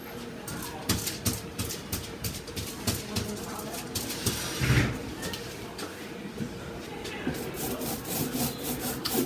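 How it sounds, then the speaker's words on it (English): Brayer and bowl scraper working cold wax across a painting panel, a close, continuous rough scraping and rubbing with repeated strokes, a voice faintly present underneath. "I'm going to use both the brayer and the bowl scraper"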